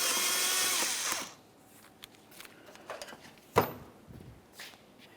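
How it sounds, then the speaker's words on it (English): A hose clamp on a 2001-2005 Ford is loosened with an 8mm driver or flathead screwdriver. It opens with a brief burst of whirring from a power driver, followed by faint scattered clicks and one louder clack. "We'll use an 8mm or a flathead screwdriver for this."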